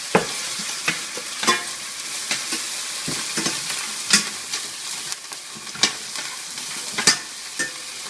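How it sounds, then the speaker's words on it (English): Garlic and shallot stir-frying in hot oil for pad thai, a steady sizzle broken by repeated sharp clatters of the pan being tossed, close and fairly loud with no voices. "and then immediately we'll add our garlic, our shallot. Cooking pretty quick already. Toss it."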